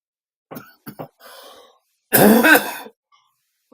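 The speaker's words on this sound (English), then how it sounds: "coughed when he hit the blinker" A man gives several short, sharp coughs, then a longer, louder rasping throat clear, heard close and alone with brief silences between the bursts.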